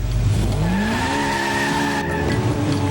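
Pro Mod drag-style race car with nitrous held at high revs near 9,000 rpm, then the clutch drops and the engine bogs and climbs again with tire squeal, loud and close, no talk.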